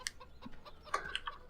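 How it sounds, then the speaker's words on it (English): Chickens cluck and squawk in a farming video game, several short, close clucks and a sharper call scattered across a quiet background. "The first thing I'd actually do is sell the chickens in here"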